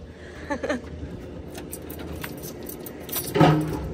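Keys jangle in two short bursts, a brief rattle early and a louder, closer clinking near the end, over a steady low hum.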